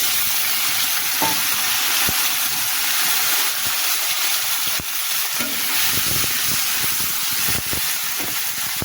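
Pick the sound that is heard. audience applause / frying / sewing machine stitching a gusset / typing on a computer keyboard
frying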